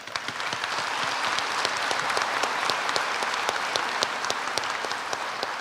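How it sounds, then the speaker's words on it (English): Sustained applause from a large crowd at a college commencement ceremony, dense steady clapping that fills the space without pause. "I think that deserves a round of applause"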